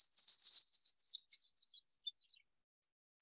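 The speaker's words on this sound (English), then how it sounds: "This is a grasshopper sparrow. He sounds kind of like an insect," A grasshopper sparrow sings a very high, faint, insect-like song: a dense buzzy trill that breaks into scattered thin ticks and fades out, alone in a quiet grassland setting.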